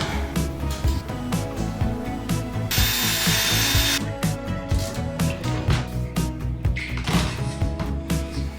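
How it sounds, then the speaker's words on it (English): A power drill whirs in continuous bursts up close while building DIY closet shelves, its motor pitch rising and falling, with a brief high-pitched whine in the middle. "and then I can drill"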